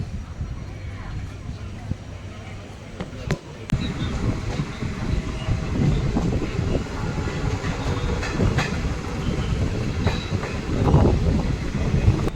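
A Bhavnagar to Veraval passenger train rolls along with a steady, close rumble and rhythmic clickety-clack of wheels over rail joints, and people talk intermittently over the noise.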